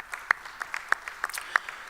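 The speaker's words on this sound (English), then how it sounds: "I now invite all of you to join me in giving a round of applause to Honorable Mr. Abraham Tolentino" Scattered, sparse clapping from a few people at a sports council general assembly, distinct individual claps ringing out irregularly in a large hall rather than a full ovation.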